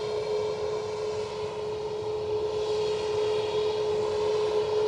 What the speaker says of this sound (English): I think we might have an inbound plane as well.